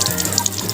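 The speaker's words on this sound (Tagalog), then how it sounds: "ilang gripo nga high-tech kaayo" A high-tech automatic water faucet sprays in a steady hiss of running water, close by and continuous for the whole short moment.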